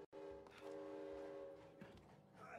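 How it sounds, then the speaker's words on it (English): Train horn from a passing train in the video game It Takes Two, a steady sustained tone held for about two seconds with rumbling underneath, loud and alone. "Oh, a train!"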